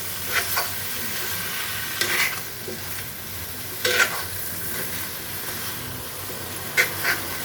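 Taro pieces sizzle steadily in a hot pan while a metal spatula scrapes and stirs them every couple of seconds, the frying hiss close and continuous between the louder stirring strokes.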